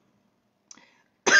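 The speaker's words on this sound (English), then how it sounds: "There's the cough." A woman gives a single sharp cough near the end, loud and close, after a brief faint throat noise in otherwise near silence.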